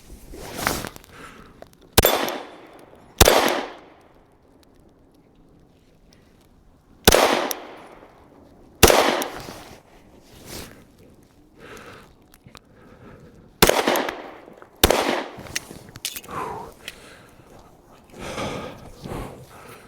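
Several gunshots from a pistol fitted with an Osight XR enclosed red dot, fired outdoors in cold weather: sharp cracks arrive singly and in pairs at irregular intervals, with quieter handling noises and breaths between them.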